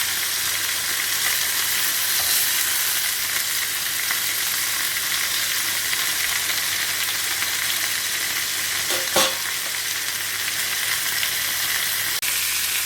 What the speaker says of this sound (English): after about 10 minutes of frying, flipping it from side to side, the chicken's now taking on a nice color